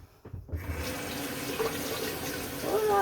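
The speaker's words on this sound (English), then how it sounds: "I better wash these mushrooms" Running tap water splashes steadily over mushrooms being washed at a kitchen sink, a continuous close rush with brief handling clatter near the start and a brighter gurgling swell toward the end.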